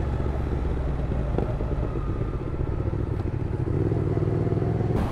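A CFMOTO 650NK motorcycle being ridden in the rain gives a steady, close engine drone with continuous road and wind noise and a brief clatter near the end.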